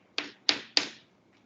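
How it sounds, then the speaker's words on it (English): Three crisp, evenly spaced taps from a computer keyboard during a lecture, close and distinct, fading to near silence after the last stroke. "I'm just typing my email on the blackboard"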